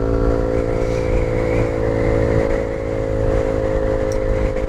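A Kawasaki Z125 Pro motorcycle downshifts and accelerates, its engine droning steadily and loudly with a sustained buzzing tone throughout, close up and with no voice over it.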